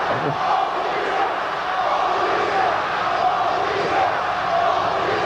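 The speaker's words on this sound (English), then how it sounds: "Fans letting their feelings of the Australians well known here." A pro wrestling crowd in Auckland jeers the Australian wrestlers, a continuous dense wall of shouting and booing voices filling the arena, loud and sustained throughout.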